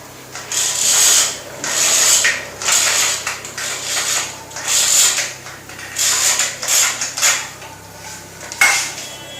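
Repeated rubbing, slithering pulls of a roman blind in a showroom as it is raised and folds upward, each pull a short swish with mechanism creaks and clicks between, close and fairly loud.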